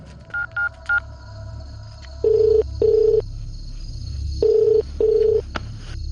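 Quick keypad tones as a number is dialed, followed by a ringback tone repeating in two long pairs, steady and clear, with a low hum beneath.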